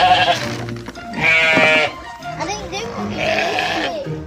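Several sheep bleat loudly in a farmyard beneath a barn, a long wavering bleat followed by shorter calls and another sustained cry, close by with animal shuffling between.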